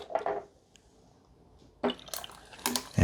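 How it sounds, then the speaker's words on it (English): Pepsi made with a SodaStream Terra is poured over ice in a glass, giving bursts of splashing liquid and fizz, with a quiet pause between the pours. "Okay, so now let's pour us a Pepsi."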